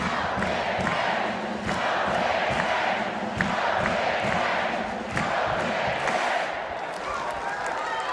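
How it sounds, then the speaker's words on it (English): A crowd at an NCAA women's volleyball tournament match between Utah and Nebraska cheers, claps and shouts in loud surging waves, with sharp bursts of noise. Talk runs beneath the din. "There's some Utes fan come all the way to Nebraska to cheer their team on"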